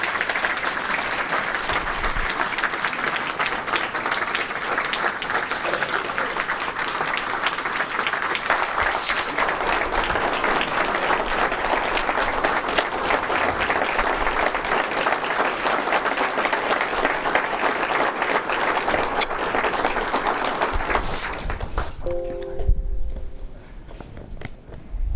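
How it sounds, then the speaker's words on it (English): An audience gives a long, loud, steady round of applause welcoming a professor to a farewell architecture lecture, the dense clapping filling about twenty-two seconds before it cuts off abruptly. "Please join me in welcoming with a big round of applause, Professor Al Price."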